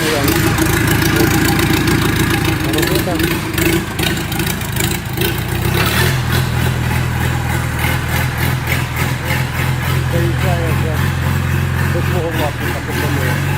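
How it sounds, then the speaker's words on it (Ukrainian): Shifeng mini tractor engines run loudly and steadily, a rumbling idle with some revving, while a voice talks over the noise. "ось приходять тракторці"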